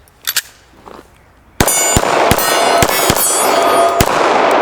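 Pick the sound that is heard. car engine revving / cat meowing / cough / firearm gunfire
firearm gunfire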